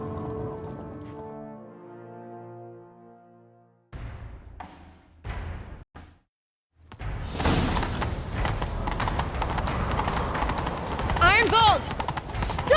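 Horse hoofbeats in The Witcher 3 come in as a few quick thuds, then give way to a steady rumbling gallop of hooves under game noise and voices.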